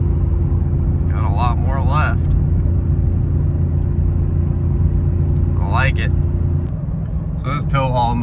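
A 4-cylinder 2024 Toyota Tacoma with an 8-speed automatic in tow haul mode hums and rumbles steadily while towing a tractor uphill, the low engine drone continuous beneath intermittent talking.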